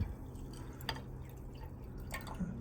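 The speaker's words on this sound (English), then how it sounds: "I wash those ones, adding some water" Water trickles and drips while being added to crushed rich copper ore during a home copper extraction using aluminum foil, a quiet, close sound of a few splashes and drips over low background hum.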